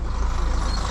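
A lorry rolling down a slope, its heavy engine rumble loud, close and continuous for the whole second, with no voices over it.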